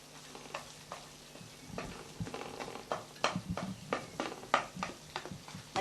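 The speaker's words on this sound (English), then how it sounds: "Chop it up with a spatula" Egg fried rice sizzling in a hot pan while a spatula chops through it, steady frying hiss under a run of irregular scraping, tapping strokes, close by.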